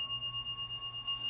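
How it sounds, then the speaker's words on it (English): A bell rings with a clear, sustained tone that holds steady and fades slightly over about a second, quiet and alone. "The bell."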